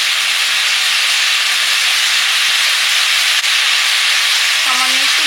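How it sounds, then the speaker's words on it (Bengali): Fish in a sour gravy with a little water boils and simmers in a pan, giving a loud, steady hissing, steamy bubbling rush that continues without pause. "টকটা একটু কম জল দিয়ে ফুটিয়ে নিচ্ছি।"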